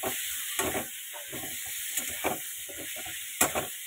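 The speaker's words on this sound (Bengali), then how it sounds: "এই যে কেটে রাখা বেগুনগুলো দিয়ে দিচ্ছি, দিয়ে হালকা করে একটু ভেজে নেবো বেগুনগুলোকে।" Cut brinjals frying lightly in a pan with onion and chilli give a steady close hiss and sizzle, broken by several short crackling bursts and soft stirring scrapes.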